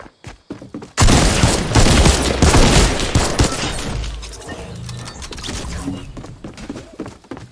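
A burst of rapid, loud gunfire from a gun in a video game, starting abruptly after a few faint clicks and continuing as a dense volley that gradually thins out into scattered shots and mechanical clatter.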